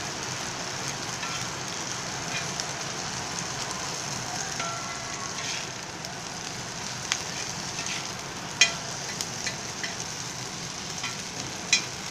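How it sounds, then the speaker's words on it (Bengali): Food fries in hot oil with a continuous sizzle, broken by a few sharp pops and utensil clicks near the end. "এগুলো ভাজা ভাজা হয়ে গিয়েছে"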